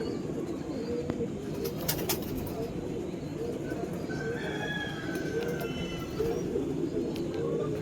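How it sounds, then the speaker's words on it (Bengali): Pigeons outdoors near a rooftop loft, with soft, low cooing running steadily under background noise and occasional faint higher calls from other birds, no clear talk. "পায়রাটা ওই পাশে পায়রাটা বসে আছে"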